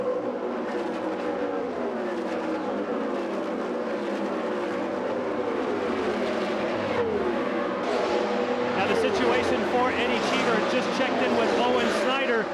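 An Indy race car screams along at speed during the 1999 Indianapolis 500, its engine note rising and falling in a steady high-pitched drone beneath continuous commentary.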